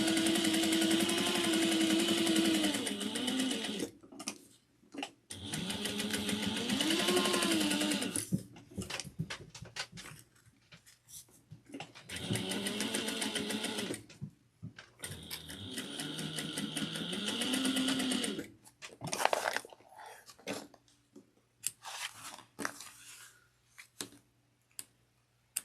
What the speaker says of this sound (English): I'm going to sew that down on the top of this at 1/8 of an inch.